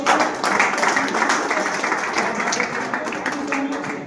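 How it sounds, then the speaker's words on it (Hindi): Audience applause welcoming a guest at a motivational seminar, steady dense clapping sustained throughout at even loudness, with a voice faintly mixed in. "बिल्कुल तालियों से स्वागत होना चाहिए"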